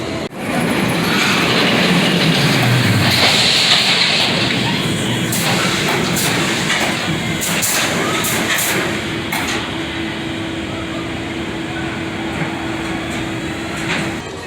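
An EMD GP diesel locomotive runs nearby at Six Flags Over Georgia, a steady loud engine rumble with a sustained drone that holds for the whole stretch, with occasional sharp clanks over it.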